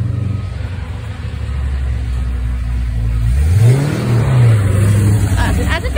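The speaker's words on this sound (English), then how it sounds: "That's a fancy car." A fancy car drives past on a street in Victoria, Canada, its engine rising in a loud rev that swells and falls away after a low steady rumble, with outdoor ambience and voices nearby.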